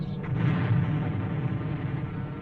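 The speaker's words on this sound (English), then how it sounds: "With speed and accuracy, they dive on the target, strafing the enemy, bombing and burning him out" Mustang fighter planes strafing and bombing enemy positions in Korea, with a dense, continuous rumble of blasts and gunfire that rolls on steadily for the whole stretch, with no voices.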